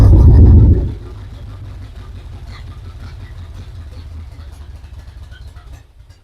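A 1980 Chevrolet C/10 Square Body Cheyenne truck engine, just fired up, drops from a loud rev into a steady low idle that rumbles on evenly, fairly close, before tailing off near the end.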